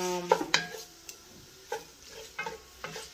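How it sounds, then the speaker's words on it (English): Ground chicken for stuffed bell peppers being stirred in a frying pan, with a quiet sizzle under several separate spatula scrapes and knocks against the pan. "I'm just gonna continue to mix it so the chicken, they don't stick together"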